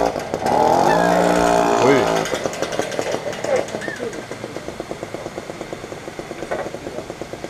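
A Peugeot moped engine with a free-flowing exhaust is revved hard at first, then drops to a loud, rapid, chattering idle-like putter, with people talking over it.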